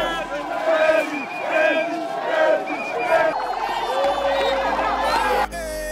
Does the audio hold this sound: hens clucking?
no